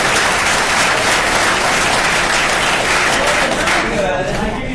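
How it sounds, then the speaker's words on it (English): Applause at a city council meeting in Las Vegas, a loud, dense burst of clapping from a nearby crowd that fades out near the end. "Applause."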